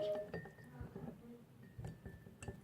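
A spoon clinks softly against a cup while stirring slime, giving a few quiet, scattered taps and scrapes with short pauses between them.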